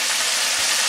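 Chicken deep frying in oil in a vegetable draining basket, a steady bright sizzling hiss, close and even, with no talk.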